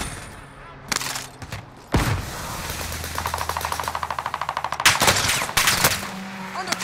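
Gunfire in Call of Duty: Modern Warfare, with sharp single shots followed by a long rapid burst of automatic fire and a few more loud cracks, under faint game background sound.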